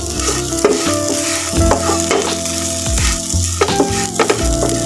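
Thick dal paste is stirred in a hot pan: a continuous sizzle-fry texture beneath repeated scraping, sweeping spoon strokes against the pan, close and fairly loud, with no voices.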